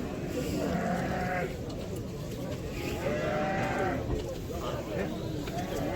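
Sheep bleat repeatedly amid a busy crowd of livestock at a market in Batken, Kyrgyzstan, before Eid, with cattle lowing and people chattering in the background.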